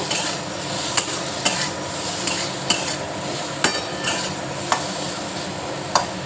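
Chili powder being stirred into amla pickle in a pan, with a spoon scraping in about a dozen separate strokes over a soft steady sizzle, close and moderately loud with no talking.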